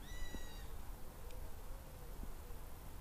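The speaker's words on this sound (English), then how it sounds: "Can you hear that? Sounds like a" A buzzard calls from a clump of trees in the UK countryside, giving a single thin, high, drawn-out mew early on, distant and faint against a steady outdoor hiss.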